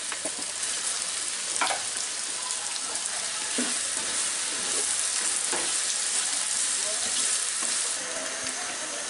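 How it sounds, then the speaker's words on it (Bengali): Onions and garlic fry in a pan, making a dense steady sizzle with occasional sharper spatters and stirring scrapes, close and fairly loud throughout without talking. "এখন এই রসুন পেঁয়াজকে, বিশেষ করে পেঁয়াজটাকে আমি একটু হালকা ধারগুলা বাদামি হওয়া পর্যন্ত ভাজবো।"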